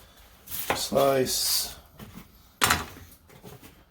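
Knife slicing an onion on a cutting board for potato-leek soup, a few sharp cuts and board knocks close by, interleaved with a person speaking.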